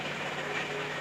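Low steady rumble of a car engine outside a room, heard faintly and continuously through the walls with no other sounds on top.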